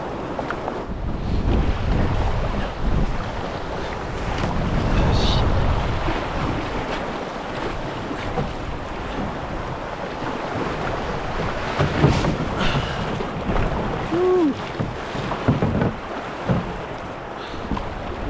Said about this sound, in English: This wind has been worse than the current this trip.